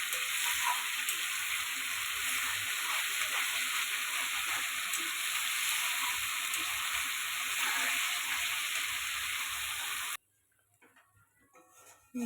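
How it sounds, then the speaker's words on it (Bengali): Fish kalia masala of katla fish being sautéed in a pan, a steady close loud sizzle and crackle that goes on for about ten seconds and then cuts off to near silence with a few faint clicks. "ভালো করে কষিয়ে নিব।"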